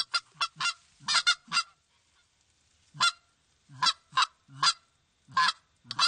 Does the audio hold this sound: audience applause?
no